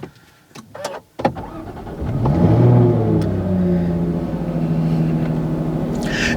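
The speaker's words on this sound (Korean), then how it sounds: "일단은 시동만 걸어도 이 소리, 배기음이 굉장히 우렁차게 들어옵니다." A Jaguar F-Type P380 cranks with a few starter clicks, then fires into a loud, booming exhaust flare that settles into a steady, rumbling idle heard from the cabin, no talking.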